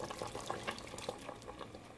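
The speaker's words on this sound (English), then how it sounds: "to boil on a high heat for 10 to 15 minutes" Beef soup with pinto beans boils on high heat, giving a quiet, continuous bubbling with small irregular pops.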